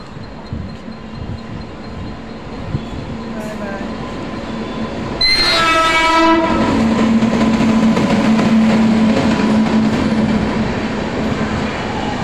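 A WAP7 electric locomotive hauls the Kutch SF Express past, its horn sounding with a sustained blast as the train arrives, followed by a loud continuous rumble of wheels and carriages rolling by nearby.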